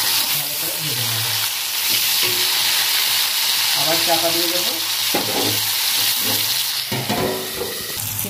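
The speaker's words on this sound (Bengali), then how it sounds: "এইভাবে ঢাকা দিয়ে দিয়ে সিমগুলোকে ভালো করে ভেজে নেবো।" Flat beans (sim) fry in oil in a covered pan over a low flame, giving a steady close sizzle and hiss throughout, with stirring and a voice speaking intermittently over it.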